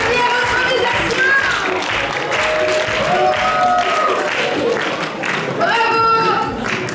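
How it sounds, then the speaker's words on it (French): Applause at the Improneuf 2024 improv theatre festival, a sustained crowd clapping at close range, with voices and cheers mixed in throughout. "on peut les applaudir très très très fort"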